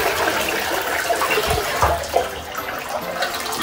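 Toilet flushing in a Costa Rica home, a steady broadband rush of draining water running the whole time with a couple of brief gurgling thumps, fairly close and continuous with no talk.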